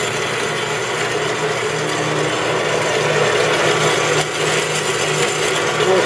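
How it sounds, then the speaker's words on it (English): A Jet 7x12 inch horizontal bandsaw with a 3/4 horsepower, 115 volt belt-driven motor runs at full speed, giving a loud steady mechanical whir and hum that holds evenly throughout. "Here we have a jet, 7-inch by 12-inch horizontal bandsaw. We're going to power it up, show you that it does operate."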